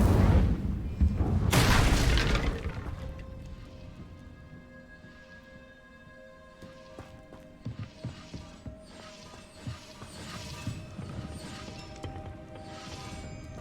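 An Incendio fire spell blasts in Hogwarts Legacy: a loud roaring whoosh bursts at the start and fades over a couple of seconds, followed by crackling, rattling and tonal game effects that continue more quietly.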